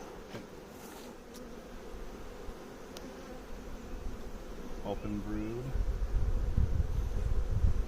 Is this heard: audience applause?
no